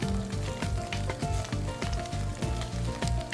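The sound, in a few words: sea scallops searing in a hot pan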